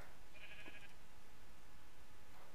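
A single short sheep bleat from a Minecraft-style block game, heard briefly and fairly faint early on against a steady low background hiss, with no talking.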